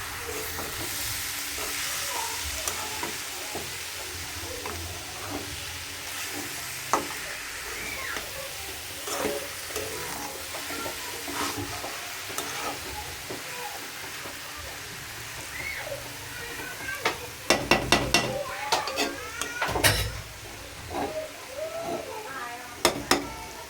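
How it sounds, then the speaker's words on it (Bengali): Shredded cabbage bhaji frying and being stirred in a pan, with a steady close sizzle and hiss broken by sharp clattering scrapes of the spatula against the pan toward the end. "বন্ধুরা এখন আমার বাঁধাকপি ভাজি"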